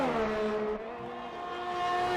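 An F1 2020 race car at the Azerbaijan circuit screams at very high speed in a sustained, close engine whine that dips briefly with a gear change before climbing again.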